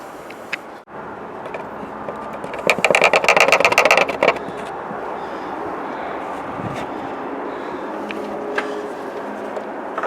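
2003 Ford F150 Lariat 4x4 V8 running after an oil and filter change, a steady close idle with a brief burst of rapid mechanical clatter early on, then an even hum.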